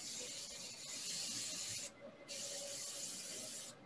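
An airbrush sprays paint through a stencil in a steady, close hiss that cuts out briefly for a moment before resuming.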